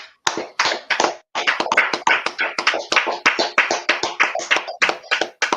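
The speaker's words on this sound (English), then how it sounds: "Clap it up." Rapid, irregular hand clapping from a small audience at a Passover class, close and fairly loud, with dense overlapping claps running steadily for several seconds after a brief opening pause and no talking over it.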